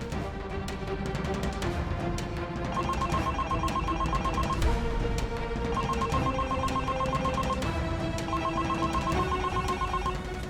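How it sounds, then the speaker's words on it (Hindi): A telephone rings with a repeating electronic bell pattern, bursts recurring at a steady rhythm with brief gaps, moderately loud and close with no one speaking. "फोन नहीं उठा रही है। दोबारा मिला।"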